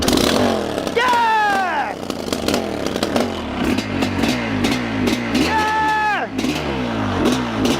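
A 700cc two-stroke dirt bike engine barks to life and revs hard, loud and close, with rising and falling throttle sweeps and a raspy crackling idle between, while excited voices shout over it.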